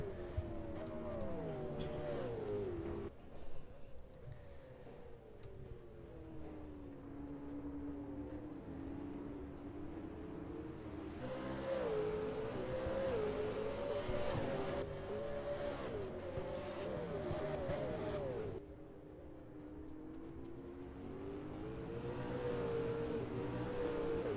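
Simulated Supercars race at Sandown in a video game: several cars roar continuously with rising and falling engine pitch as they shift gears through laps, loud and sustained, layered engines overlapping with no talking.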